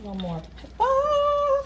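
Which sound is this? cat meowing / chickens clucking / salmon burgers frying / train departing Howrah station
cat meowing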